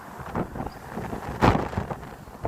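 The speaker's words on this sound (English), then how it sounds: "It's just windy." Strong gusting wind of Storm Isha on a cold night in Blackpool, buffeting the microphone in broad roaring surges with a sharper gust near the middle.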